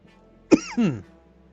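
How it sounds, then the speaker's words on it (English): A man in a workshop gives a short cough followed by a throat-clearing rasp, close and loud against a quiet background. "Please excuse my coughing tonight."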